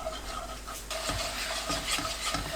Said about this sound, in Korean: 진간장 한 큰술, 맛술 한 큰술, 올리고당 한 큰술 넣고 센 불로 켭니다. 양념을 섞으면서 끓여주세요.